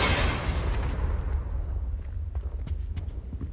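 Confringo fire-blast spell from Hogwarts Legacy bursting into a loud, close explosion with a broad roaring onset that decays into crackling debris pops and rumble.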